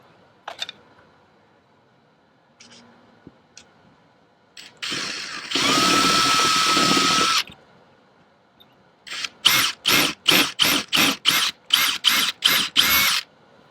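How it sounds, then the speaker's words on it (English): A power drill drilling out a rivet in door trim whirs in a steady burst for a couple of seconds, then a rapid series of short, sharp mechanical bursts follows, close and loud. "we'll drill this one out."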